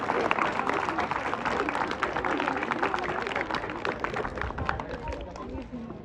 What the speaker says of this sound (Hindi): तो आप सभी लोग जो है सम्मान पूर्वक जो है दीवानदा के लिए ताली बजाएंगे। ताली बजाएं।